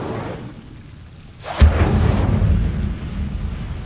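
A single sharp Incendio fire spell cast in Hogwarts Legacy bursts out of quiet ambience, then rolls into a loud, rumbling flame roar that lingers and slowly fades.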